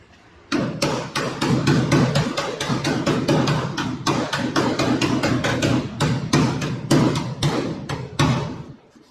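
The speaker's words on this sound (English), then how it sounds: "I come in and tap on that flange and tighten them up" Metal hammer tapping along a body panel flange on a 1969 Boss 429 Mustang during restoration, a long run of sharp, evenly spaced close raps with brief pauses.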